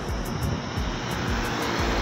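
A Putra Pelangi bus pulls into Banda Aceh in the morning, its engine droning loud and close with a pulsing throb that repeats through the whole stretch.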